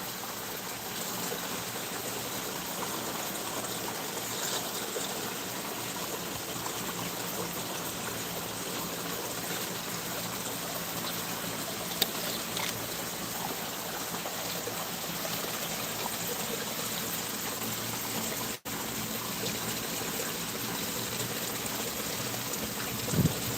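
Water runs continuously in a pond garden, a steady even rush that carries on unchanged throughout, with no talk.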